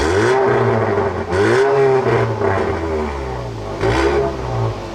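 A 2015 Chevy Colorado extended cab pickup's 2.5L four-cylinder engine revs hard several times through its exhaust, each loud rise climbing and falling back to idle, close and continuous with no talking.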